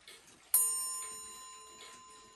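A single bright chime from a small Swiss ImHof table clock striking the half hour rings out after a brief quiet moment, its clear tone lingering and slowly fading.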